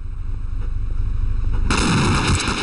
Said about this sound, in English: Didn't expect it to explode like a James Bond movie